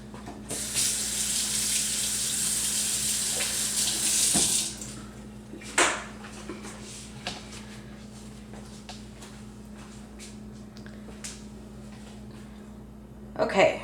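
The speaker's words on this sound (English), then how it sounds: "I think I'm going to rinse my hands." Hands being rinsed under a running kitchen tap while making shrimp rangoon: a steady, close rush of water for about four seconds that abruptly stops, followed by quieter scattered clinks and shuffles.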